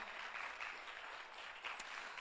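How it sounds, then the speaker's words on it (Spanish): A church congregation claps steadily and enthusiastically, a dense continuous applause filling the room. "Dale un fuerte aplauso al Señor, queridos hermanos."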